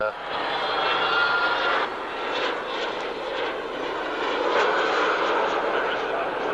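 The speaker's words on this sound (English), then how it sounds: "you could hear the beautiful sound of that engine spooling up as he tucked everything away" A jet aircraft engine at an air show roars steadily and swells in pitch and loudness as it spools up, heard from a distance, with a person talking over it.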